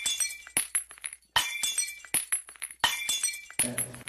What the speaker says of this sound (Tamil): ஏன் 3 பாட்டில தள்ளி விட்டுருக்காங்க?